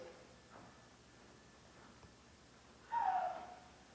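A short, shrill, wavering owl-like screech, used as a stage sound effect in a 2001 amateur production of Macbeth, rises suddenly out of near-silence near the end and fades quickly.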